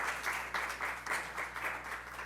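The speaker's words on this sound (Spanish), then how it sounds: "Le damos un fuerte aplauso en esta noche y muchas gracias por acompañarnos" An audience at a press freedom panel discussion applauds, a steady wash of many hands clapping in a hall, moderately loud and continuous without any voices.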